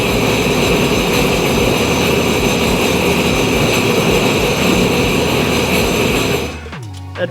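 A Sea-Doo Spark Trixx personal watercraft engine runs steadily and loudly with a droning buzz close by, then cuts off near the end, leaving a brief fading whine.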